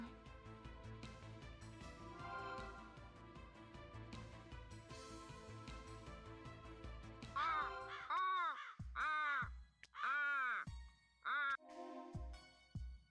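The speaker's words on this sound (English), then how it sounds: "That damn crow again." A crow caws in the video game Root Letter, five or six loud, harsh calls in a quick ragged series that breaks in over game music.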